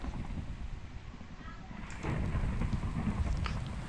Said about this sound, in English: Of course, it's raining here.